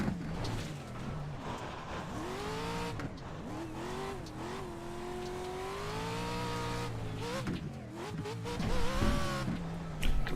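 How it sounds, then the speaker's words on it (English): An off-road racing truck in iRacing revs hard and continuously, its engine pitch climbing and dropping through shifts with brief tire squeal, loud and alone without talk. "Completely shifting off of engine revs here."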